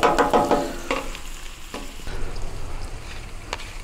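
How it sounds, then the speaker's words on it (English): Onions sizzle on a Pit Boss griddle, with clattering stirs and scrapes of a utensil at the start, then a steady frying hiss underneath and an occasional sharp tap. "And now I will put the onions here on the side, so they will caramelize"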